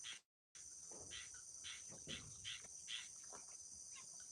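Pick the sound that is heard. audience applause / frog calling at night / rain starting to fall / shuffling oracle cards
frog calling at night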